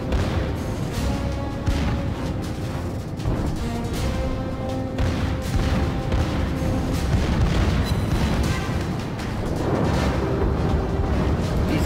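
Warship guns firing in World of Warships, heavy booming salvos rolling over a constant low rumble of battle, loud and sustained with repeated thuds.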